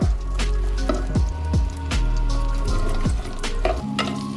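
Aloo keema sizzling and frying in a pan, a steady crackle broken by repeated soft scraping stirs at a regular pace, close and fairly loud with no talking.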